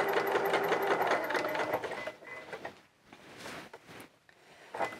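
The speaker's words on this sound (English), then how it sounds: "I'm just going to sew all the way around." A sewing machine runs steadily, stitching all the way around a piece of fabric for a coverall garment, with a close, continuous mechanical whir that then pauses and restarts in short bursts.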